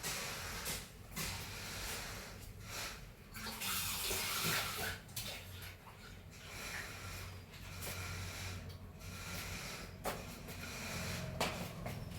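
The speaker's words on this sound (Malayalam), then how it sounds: "ശർക്കരപ്പാനി ഒഴിക്കാം" Jaggery syrup pours and splashes into a pot of milk for moong dal payasam in a loud, continuous gush with a few pauses and clinks, close up.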